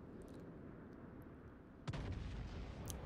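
Battleship naval guns firing in a World of Warships-style naval game with Tier 3 UK cruisers; a single loud boom lands partway through over a steady rumbling sea and engine bed, with a sharp crack near the end.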